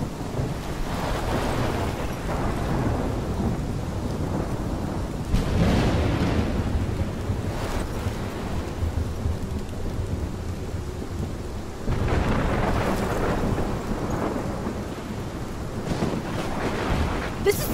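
A thunderstorm rages in Life Is Strange: Polarized, with heavy rain hissing steadily and several loud rolling thunder claps breaking through, close and booming, with no voices over it.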